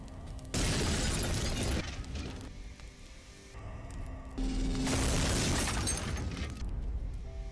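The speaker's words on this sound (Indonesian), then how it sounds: "Obrolan mereka terhenti karena ada suara ledakan di luar. Ternyata mobil Ratnam telah diledakkan oleh anak buah Rayudu." A car blown up outside erupts in two loud, broad blasts with crashing debris, the second rising after a brief lull, no talk over them.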